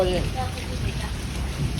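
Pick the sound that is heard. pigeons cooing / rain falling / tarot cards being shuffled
rain falling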